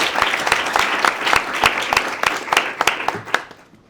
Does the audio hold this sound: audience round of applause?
yes